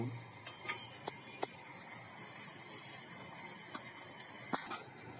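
Matar paneer gravy simmering in a pan on the stove, with a soft low sizzle and occasional spoon scrapes and clinks as it is stirred, fairly quiet and close.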